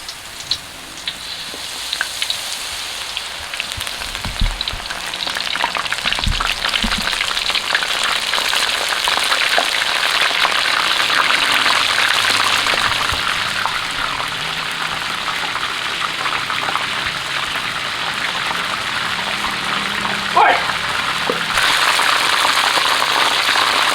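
Batter-coated mushrooms deep-fry in oil over medium heat, giving a loud, steady, close crackling sizzle that holds for the whole stretch with no talk.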